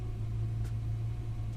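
HK Holden car engine idling steadily during warm-up, a continuous low rumble with a constant hum, close and unchanging throughout.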